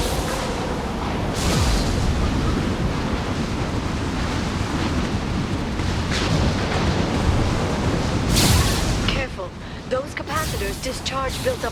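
Storm roaring in the Mass Effect game during the Lair of the Shadow Broker mission, a loud sustained rumble of wind and thunder that swells and then drops off, with voices talking afterward.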